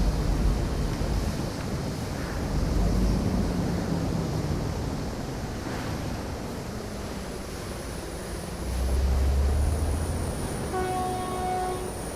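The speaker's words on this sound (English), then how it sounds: "There's the train." A train in Euro Truck Simulator 2 rumbles past near a Russian route to Luga, a low steady roar under truck engine noise, ending with a clear horn blast.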